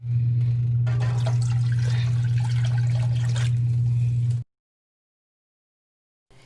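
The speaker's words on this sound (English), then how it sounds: "I'm going to measure out my 4 cups of water with my measuring cup." Tap water runs steadily into a measuring cup for cooking rice, a continuous close trickling rush for about four seconds, then it cuts off abruptly to silence.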